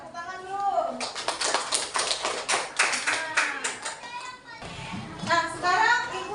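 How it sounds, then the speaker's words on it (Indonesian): A classroom of children claps hands together in rhythmic bursts, with kids' voices chattering around the clapping and a teacher speaking near the end. "Tepuk tangan dulu."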